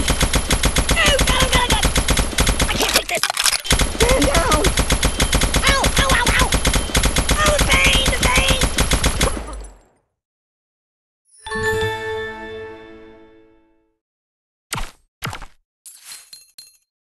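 Sustained rapid automatic gunfire from firearms in the Kick the Buddy video game rattles loudly for about nine seconds, then stops; a later burst of ringing, metallic clatter and a few sharp clicks follow.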